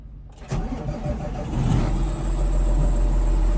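A tractor engine cranks and starts after a brief quiet moment, then settles into a steady, loud mid-pitched idle with a slight rise as it catches.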